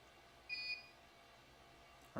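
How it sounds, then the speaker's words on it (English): A short electronic beep sounds after hardware settings are saved, a brief thin tone standing alone against low background hiss, followed by a sudden louder noise at the end. "there's a beep"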